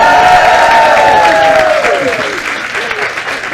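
A crowd at a Keller Williams Realty gathering bursts into loud applause and cheering, dense clapping that slowly tapers while a voice calls out over it.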